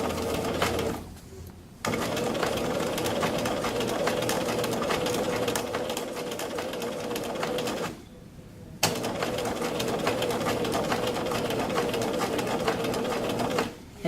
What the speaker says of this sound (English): I'm going to stitch right along the outside of my stitch line right out here